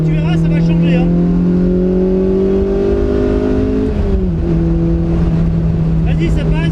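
Car engine accelerating hard on a race track, its sustained tone climbing steadily before a brief drop and renewed pull, loud and close, with voices talking over it.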